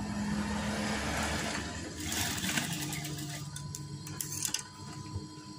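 A sewing machine runs a continuous stitching whir as it sews curtain fabric, forming wave-style pleats for a curtain valance. The rattle grows busier and more irregular toward the end, and no one speaks.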